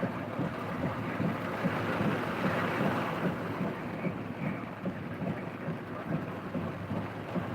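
Dense, steady roar of heavy rain in Jonesville, Virginia, with a low rumbling undertone like distant thunder, continuous throughout with no voices.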